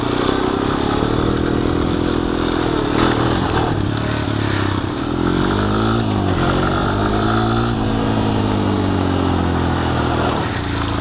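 A Honda 250EX ATV that sat outside for ten years runs with a loud, close, steady engine drone that rises and falls slightly in pitch as the throttle shifts, with a clattery mechanical edge.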